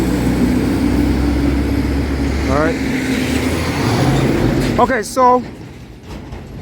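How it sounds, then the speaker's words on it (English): Loud trucks rumble past on Old Western Road in a steady, close roar that swells and fades, with someone speaking briefly near the end. "I got some loud trucks going by here"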